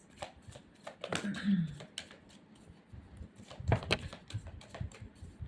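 Tarot cards being shuffled by hand, a run of soft riffling and slapping clicks in irregular bursts, close and quiet, while a person talks over them.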